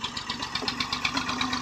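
A farm tractor engine idles nearby on a Punjab farm, a steady mid-pitched rumble with a fast, even knocking pulse throughout.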